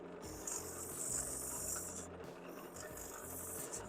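Hand sanding of a turned wooden bead held in lathe chuck jaws gives a steady, close rasping rub with brief pauses, slight pulses as the paper shifts, and no voices.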